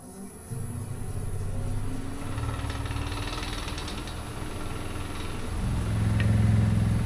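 A woodturning lathe runs at 900 RPM with a steady low hum and mechanical drone that swells slightly louder toward the end, with no talking.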